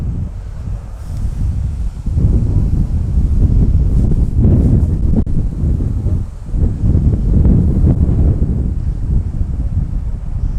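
Strong gusting wind buffets the microphone at a fishery where barbel are being caught, a loud, continuous low roar that swells and dips without a break, with no talking.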